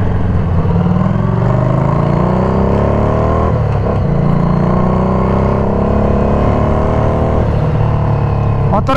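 A loud, continuous engine drone from a modified 2016 Harley-Davidson Street 500 bobber motorcycle while riding, with rising and falling pitch as it accelerates, steady and close throughout.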